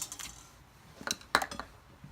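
Knife chopping pre-cooked bacon into small pieces on a cutting board, a few sharp close taps and clicks in short irregular clusters.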